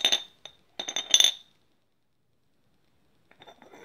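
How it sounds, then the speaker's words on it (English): Glass stoppers clinking inside an antique Lightning food jar, a few sharp bright clinks in a quick cluster, close and clear, then silence and faint rattling at the end. "Here's a trademark lightning food jar. And it is full of stoppers."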